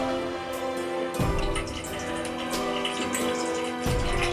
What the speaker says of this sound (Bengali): এখানে 1 চামচ মতো পেস্টটাকে একটু স্মুথ করার জন্য ডাবের জলটা।